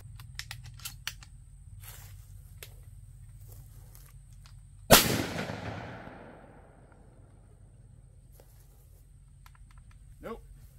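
A single sharp, loud blast from a Franchi Affinity 3 12 gauge shotgun firing Winchester Universal shells outdoors, with a long decaying echo, set among faint clicks and handling noises.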